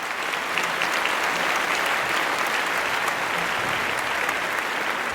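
An audience claps steadily and warmly for a speaker named Christina as she is welcomed to the front of an academic talk, a dense, even wash of hands that holds for several seconds with no one speaking.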